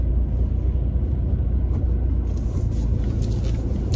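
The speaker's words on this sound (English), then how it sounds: "Right, park up here and wait for Tony" A car drives on steadily with a loud, constant low engine and road rumble throughout, near and unbroken, while someone parks up near a group of Porsche Taycans.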